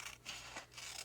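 Scissors snip through paper on a handmade chocolate box, giving several quick, close scraping cuts in an uneven rhythm with no voices.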